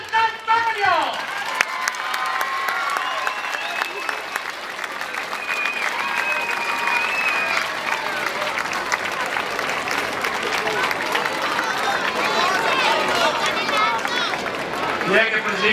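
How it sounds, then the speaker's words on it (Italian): Crowd applauding a Palio dei Mezzadri contrada team, the Sant'Antonio, as it is presented: sustained dense clapping and cheering throughout, with voices mixed in. "Entra un grande applauso per il Sant'Antonio!"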